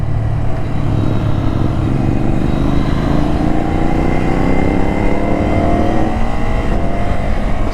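A Ducati Scrambler motorcycle runs at full throttle, its loud, close engine roar holding steady and climbing in pitch through the gears, with no pauses and no voices.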